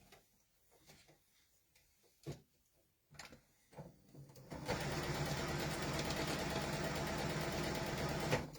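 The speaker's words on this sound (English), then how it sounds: "I'm just sewing my strips together so that it's wide enough to make the border" A sewing machine stitches quilt border strips together, running steadily for the last few seconds after scattered quiet handling clicks and bumps.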